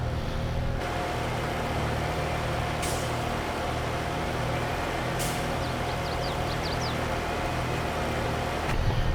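A small tractor pulls a seeder in Farming Simulator 22, its engine holding a steady, even drone throughout, with a few short hissing bursts like air brakes breaking in now and then.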